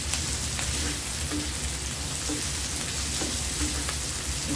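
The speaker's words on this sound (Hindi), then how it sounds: "अब मैं इसके अंदर पहले सॉसेज डाल के इसको फ्राई कर लूँगी" Chicken sausages fry steadily in a pan, giving a dense, even sizzle that stays loud and close, with small pops and crackles throughout and no voices.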